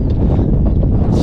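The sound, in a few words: strong wind on mountain trail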